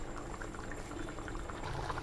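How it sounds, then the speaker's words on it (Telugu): Fish curry simmering in a pot, a soft continuous bubbling and gurgling at close range, steady and fairly quiet with no voices. "కర్రీ చూడండి ఎంత చక్కగా ఉడుకుతుందో"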